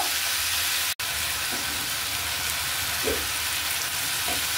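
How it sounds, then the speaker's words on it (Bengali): Yardlong beans and flat beans fry in a pan with a steady, close sizzle and hiss that runs throughout, broken by one brief dropout and a few faint clicks. "ভালো করে ভেজে নিব। পানিটা শুকিয়ে যাওয়া পর্যন্ত অপেক্ষা করব।"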